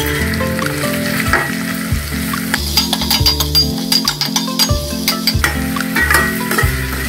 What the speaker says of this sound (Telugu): పచ్చిమిర్చి కూడా బాగానే వేగింది